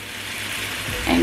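Shrimp sizzle steadily in a pan, a close, even crackle and hiss that swells slightly toward the end.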